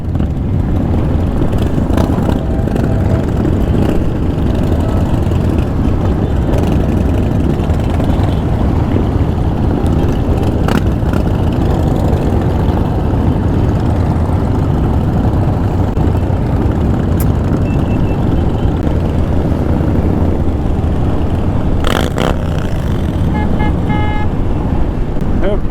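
Many motorcycles rumble in a crowded charity toy run through lined streets, a loud continuous low engine drone with occasional horn toots and talk over it.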